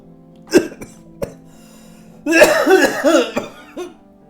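An old man coughs several times, a few sharp single coughs followed by a rough, rattling burst of hacking, close and fairly loud.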